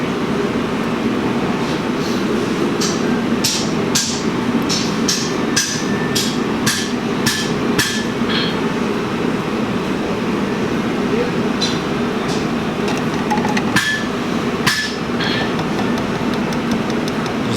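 A hammer lightly taps an integral scale into place, a series of sharp metallic taps in irregular clusters over steady background hum, with a person talking intermittently.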